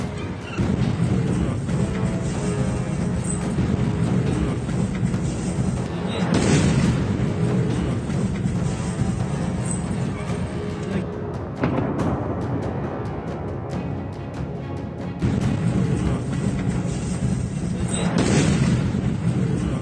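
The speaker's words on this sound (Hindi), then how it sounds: "रूस की बमबारी अब यूक्रेन पर भारी।" Heavy booms and rumbling blasts from Russian missile bombing of Ukraine roll continuously, with several louder surges standing out from the dense, sustained roar.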